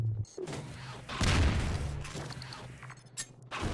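Explosions in Half-Life 2, a low rumbling blast swelling around the middle and dying into debris crackle, loud but somewhat distant under game ambience.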